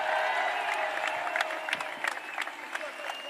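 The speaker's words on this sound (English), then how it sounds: "Another round of applause for Xander and Kirby, Simo, Hunter Ensley, and your Tennessee Volunteers" Crowd applause fills a championship parade in Knoxville for the Tennessee Volunteers baseball team, a steady wash of clapping with scattered sharper claps and some cheering.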